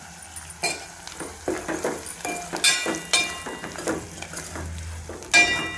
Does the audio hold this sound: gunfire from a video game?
no